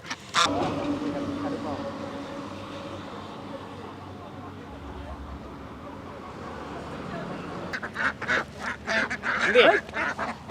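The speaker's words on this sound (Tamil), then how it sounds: "ஐயோ எல்லாம் வாத்து கடிக்குது" A group of ducks quack and honk near a village setting while pecking at someone's hand, with people talking over the flock throughout and the quacking growing busier and louder toward the end.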